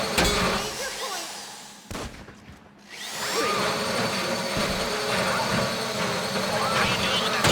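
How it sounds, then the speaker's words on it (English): A heavy drill grinds loudly during a heist in the video game GTA 5, dropping out briefly midway and then resuming as a steady harsh whine, with voices talking over it. "How you doing with that drill? Make it stop! That drill got another gear?"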